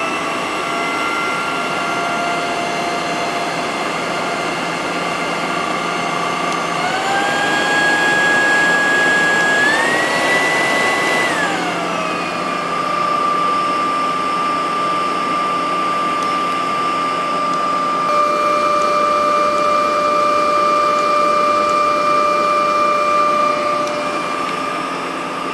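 A vacuum cleaner switched on and running, a loud steady whine with a clear pitch that climbs as it spins up and then settles into a constant high hum with shifting tones, close by and with no talking.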